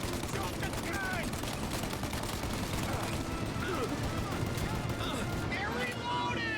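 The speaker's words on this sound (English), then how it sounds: "Shoot out their gun when there's a break in the fire!" Enemy gunfire in Mafia: Definitive Edition keeps up a heavy, continuous barrage of rapid shots and booms, with voices shouting over the din the whole time.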